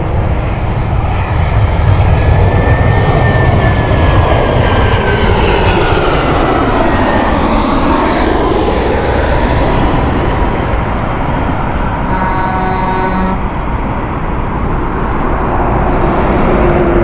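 A loud, steady jet roar from an airliner on final approach to Heathrow runway 27 left fills the whole stretch, swelling and shifting in pitch as the plane passes overhead.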